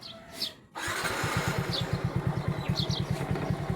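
Motorcycle engine cranks and catches after a short pause, then settles into a fast, steady chugging idle close by, with faint voices in the background.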